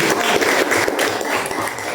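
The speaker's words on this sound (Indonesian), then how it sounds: "Tepuk tangan dulu buat Dewayu." A classroom group applauds in a Hindu religious education lesson, a dense, steady wash of clapping lasting the whole short stretch at moderate loudness.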